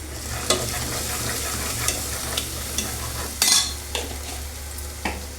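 Turmeric sizzling in a pan of frying mutton trotters for sherva, a steady broadband hiss with several sharp scrapes and stirs of a spoon against the metal, close and loud.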